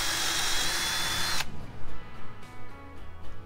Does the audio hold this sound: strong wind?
no